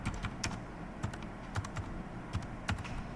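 Keys clatter on a computer keyboard in a close, steady burst of typing, with a few sharper keystrokes standing out above the soft patter.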